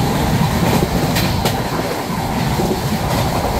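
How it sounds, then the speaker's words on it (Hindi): Bhubaneswar Rajdhani express rushing past a stationary train, a loud, continuous roar of wheels and wind close by, with brief clattering bursts as the coaches go by. "भाई ये निकली भुवनेश्वर राजधानी।"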